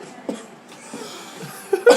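A man coughs in short, sharp bursts during a podcast conversation about football, with a quiet pause between coughs and a louder fit at the end.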